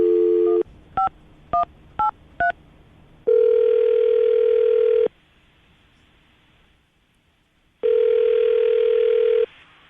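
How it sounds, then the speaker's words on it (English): A dial tone gives way to a quick series of touch-tone beeps, followed by two long ringback tones separated by a pause. "I'm going to dial the phone number right now."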